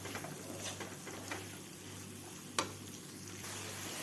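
Diced vegetables sautéing in a pan for chilli-garlic noodles give a soft, steady sizzle with scattered stirring scrapes and one sharp clink near the middle, at a fairly low level.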